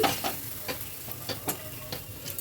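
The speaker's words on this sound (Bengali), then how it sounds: "একটু নাড়াচাড়া করে নিচ্ছি।" Ground pea paste fries in a pan, a soft sizzle under rhythmic spatula strokes that scrape and tap about twice a second.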